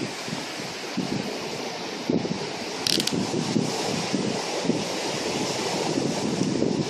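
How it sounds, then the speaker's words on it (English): Hurricane Sandy's early winds in Wind Gap, Pennsylvania roar in a steady, loud broadband rush, with repeated gusts up to 70 mph buffeting the microphone and trees thrashing throughout. "there's really high sustained winds, gusts of up to 70 miles an hour"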